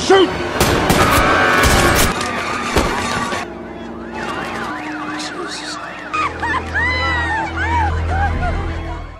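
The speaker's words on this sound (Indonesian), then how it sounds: "Peter tertembak dan Mason menembak tersangka tepat di kepalanya" Rapid bursts of gunfire crackle loudly at first, followed by wailing sirens and muffled voices in a busy, dramatic film soundtrack from The November Man.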